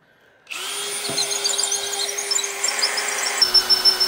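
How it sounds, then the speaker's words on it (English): A power drill bores holes for 5/16-inch carriage bolts into wood against a metal beam, running steadily and loudly after a quiet start, with the pitch shifting near the end as the bit works through. "Now I need to drill some holes and bolt this to the side of the metal beam."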